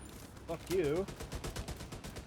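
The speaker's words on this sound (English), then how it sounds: "Turret shoots at everybody." Automated turret gunfire in The Division 2, a rapid string of clipped shots under a game soundtrack, with a brief whooping synthetic tone near the start and no talk.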